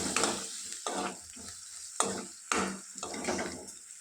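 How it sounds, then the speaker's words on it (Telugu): Salted onions fry in a pan while being stirred, a soft sizzle rising and falling with a steady rhythm of spatula strokes about every half second. "కలుపుతూ బాగా వేయించుకోవాలండి"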